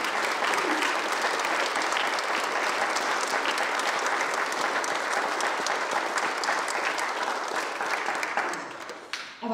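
Concert-hall applause at a Mahler festival in Jihlava, given to the Czech boys' choir Boni Pueri, a dense, even sheet of many hands clapping that carries on steadily before dropping away right at the end.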